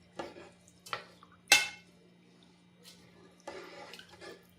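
Salmon miso ingredients get mixed in a rice cooker pot: a few wet scrapes and clinks of a utensil against the pot, one sharp louder knock, then a longer stirring scrape, close up over a steady low electrical hum.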